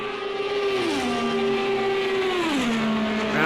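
IndyCar race cars lap Indianapolis in the Project Cars 2 racing game, a loud continuous high engine whine that dips in pitch twice as the car shifts gears, with no talk.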